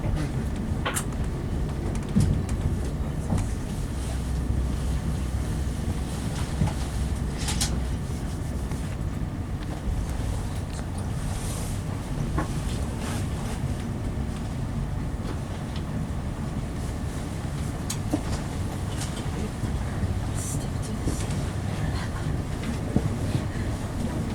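Rumble of a passenger train running in toward Edinburgh, heard from inside the carriage as a steady, loud roar with wind-like noise and faint rattles throughout, no clear talk.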